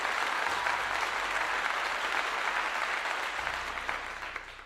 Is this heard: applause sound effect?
yes